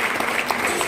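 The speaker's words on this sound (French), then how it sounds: "Go Michel, qu'on applaudit très très fort." Loud crowd applause at a francophone festival launch in Côte d'Ivoire, a dense wash of many hands clapping continuously over the brief moment.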